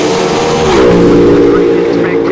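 AA/Fuel dragsters launching side by side at the California Hot Rod Reunion drag strip, a loud, sustained engine roar that swells and holds steady with a tearing, harmonic-rich rasp, no talk over it.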